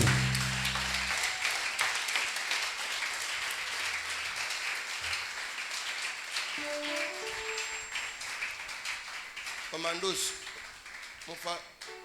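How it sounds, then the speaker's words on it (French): Church audience clapping and cheering in a continuous crowd roar, fairly faint and distant, with scattered shouts rising near the end. "Acclame bien Jésus."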